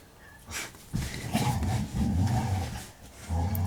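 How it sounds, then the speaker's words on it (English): Dogs growl in bursts while playing tug with a toy, close by, with rubbing and scuffling mixed in. "they've got a tuggy toy, that's why the growling's going on."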